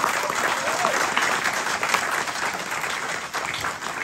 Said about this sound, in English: So let's give one more round of applause for Yoshio.